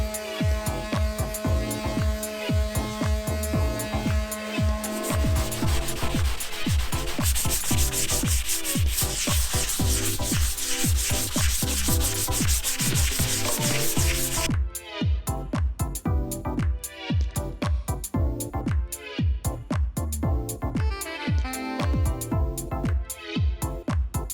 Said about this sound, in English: I'm just going to sand that down with some medium grit sandpaper